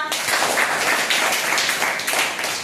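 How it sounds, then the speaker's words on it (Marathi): Classroom of schoolchildren applauding together, a dense steady burst of many small hands clapping close by for nearly three seconds with no talk over it. "त्यासाठी टाळ्या वाजवा."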